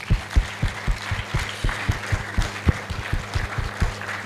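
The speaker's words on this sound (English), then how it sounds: "So let's clap once again." Audience at a Nairobi event clapping on cue, heard as a series of distinct, fairly close hand claps in a loose rhythm, with a few hands slightly out of sync.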